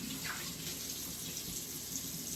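Hot water runs continuously from a tap while a non-stick pan is rinsed, a steady hiss of flowing water held at an even, close level with faint splashes and no talk.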